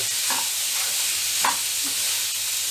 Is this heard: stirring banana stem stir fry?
yes